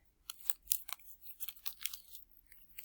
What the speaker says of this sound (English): I'll run a piece of tape down the side